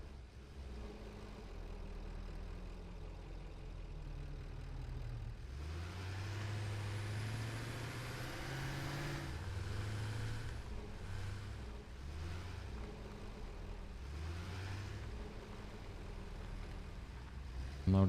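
A tractor in the video game Satisfactory, hauling compacted coal, drives with a steady low engine drone that swells and rumbles under a continuous mechanical hum, with no talking.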